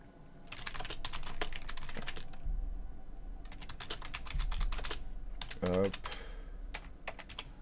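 Keys pressed on a computer keyboard, with bursts of quick, crisp clicks, some single taps and short rapid runs, close to the microphone under quiet game sounds, with a brief spoken word.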